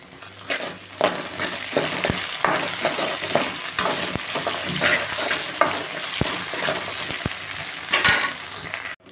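Curry leaves and ginger garlic paste fry in a pan of oil with a steady sizzle, and a spoon stirs and scrapes at intervals, close and fairly loud.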